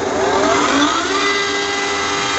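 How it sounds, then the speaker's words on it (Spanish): A 440-volt industrial electric motor on an air compressor starting up with star-delta switching, a loud close whirring drone with rising and falling whine tones, steady for the whole moment. "Motor a 440 voltios. Vamos a proceder con el encendido."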